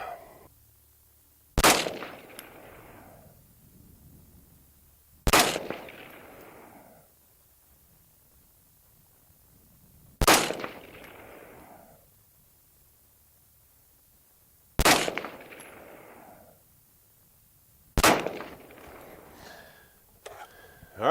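Five evenly spaced .223 rifle shots fired with 55-grain rounds, each a loud, sharp crack followed by a short echoing decay, with quiet pauses of a few seconds between them.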